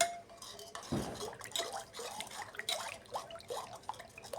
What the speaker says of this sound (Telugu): శనగపిండి పోసి గడ్డలు లేకుండా మొత్తం కలపాలి.